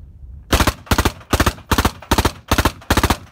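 Full-auto rifle fired through a Thunder Beast DSU suppressor, giving seven evenly spaced short bursts of three to four muffled, close shots each, steady and rhythmic.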